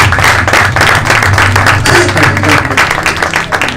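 A church congregation claps and cheers in sustained, loud applause, a dense wash of hands and voices rising and falling with no pause.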